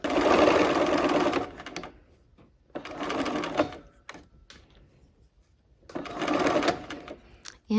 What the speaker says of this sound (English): now we're gonna go ahead and sew